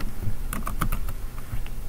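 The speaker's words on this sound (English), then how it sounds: "Synapse is a pretty neat system to use because you just start typing" Keys clatter on a computer keyboard while a search is typed into the launcher of a MakuluLinux Cinnamon 8 desktop: a short, close burst of quick, uneven clicks that trails off into quieter taps.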